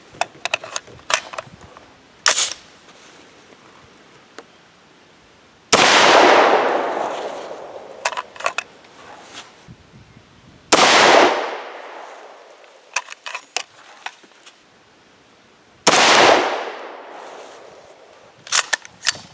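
A .300 Blackout rifle firing 208-grain Hornady Match BTHP handloads, four loud sharp shots spaced several seconds apart, each with a long decaying echo, amid smaller clicks and handling noises between them.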